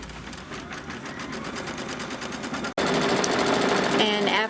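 A computerized quilting machine runs its tack-down stitching, then goes straight into quilting with a steady, rapid mechanical chatter that briefly cuts out before resuming louder and close.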